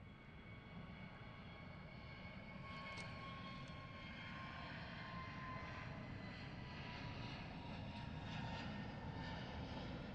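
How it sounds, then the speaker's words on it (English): Airbus A321 departing Gatwick Airport, a steady, broad jet engine roar that holds at a distance for the whole stretch with no voices. "once we've caught the A321 departing"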